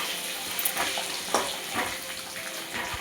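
Prawns fry in hot oil in a wok with a dense, continuous sizzle and crackle, close and fairly loud, with occasional pops and stirring scrapes.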